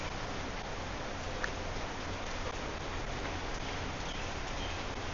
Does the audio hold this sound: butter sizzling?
no